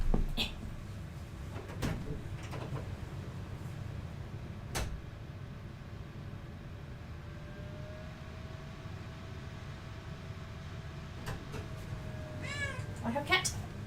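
A house cat meows a few times, short cries scattered through the clip, with a longer wavering meow near the end, under low room noise and a speaking voice.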